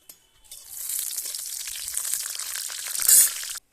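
A bay leaf and dried chilli dropped into hot oil for tempering, a sudden bright crackling sizzle that holds steadily for a few seconds and flares briefly near the end.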